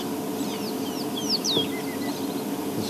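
High, thin chirps and squeaky calls from young insect-eating birds, scattered and fairly faint over a steady outdoor background hum.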